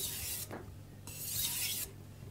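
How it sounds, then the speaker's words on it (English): A knife stroked along a wet 800 grit whetstone, two smooth hissing rubs separated by brief pauses, close and fairly quiet with no speech. "We are working on an 800 grit stone after all."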